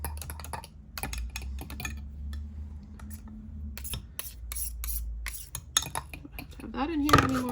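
Glitter is stirred into melted soft bait plastic in a cup, a close, busy series of light scraping taps and clinks from the utensil against the container, irregular and quick, with a brief louder scrape at the end.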